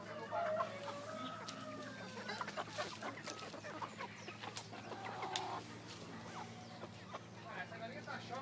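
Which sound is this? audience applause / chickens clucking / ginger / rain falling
chickens clucking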